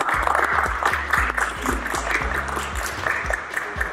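An audience at a Rotary Club peace-tour event in Cortazar claps for the director, a dense, steady round of applause from a sizeable crowd that carries on throughout.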